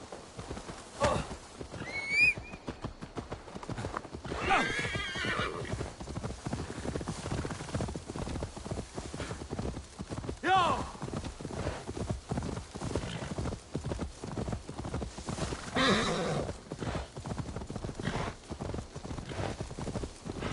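Horse hooves clip-clop steadily on the ground in Assassin's Creed Valhalla, with several loud whinnying neighs breaking through the continuous galloping rhythm.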